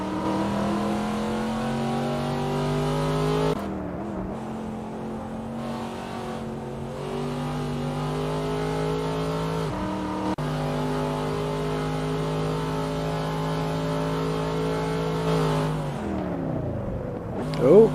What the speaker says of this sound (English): Onboard Gilbert Kaya, starting a fresh lap.